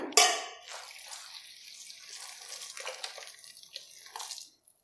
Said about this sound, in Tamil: நல்லா சூடான தண்ணியில் சேர்த்துருங்க